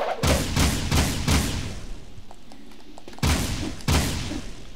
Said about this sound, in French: Le blaster est un excellent choix avec une bonne vitesse de tir.